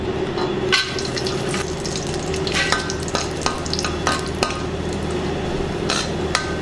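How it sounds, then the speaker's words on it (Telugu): Cashew nuts fry in ghee in a pan for semiya upma, a continuous close sizzle broken by frequent scraping and clicking from stirring. "ఇప్పుడు కొద్దిగా నెయ్యి వేసుకుందాం. జీడిపప్పు వేసుకుందాం."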